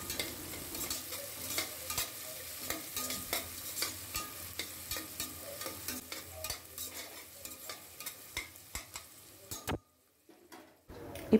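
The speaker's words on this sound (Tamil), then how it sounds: "எல்லாத்தையும் நல்லா வதக்கி விட்டுக்கலாம்." Chopped onions and curry leaves are sautéed with spices in hot oil in a cooker for mutton kurma, with a steady sizzle and repeated scraping and ticking stirs, fairly close, ending in a short pause.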